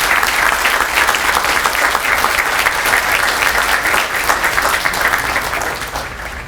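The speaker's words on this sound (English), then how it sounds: "please join me in a round of applause for the company staff of Company" A large audience applauds at the Lima Company graduation ceremony. The clapping is loud, close and sustained, easing slightly at the very end.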